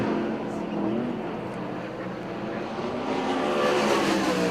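Sprint race cars roar down the front stretch at Port Royal Speedway, a continuous dense engine drone swelling louder toward the end, heard through an announcer's commentary.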